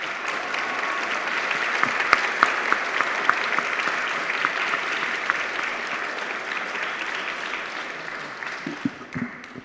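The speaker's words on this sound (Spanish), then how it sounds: "para quien pedimos un fuerte aplauso" An audience at a book presentation claps warmly, a dense, steady wave of applause that holds strong and then thins out toward the end, with a few louder individual claps standing out.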